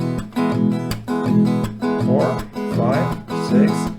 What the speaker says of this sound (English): Then back to E and play 8 rounds of strumming.